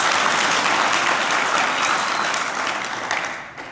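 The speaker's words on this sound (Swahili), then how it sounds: "Tujipigie makofi wote tafadhali." Yanga supporters in Malawi applaud together: loud, dense, continuous clapping from a large audience that holds steady, then tapers off at the end.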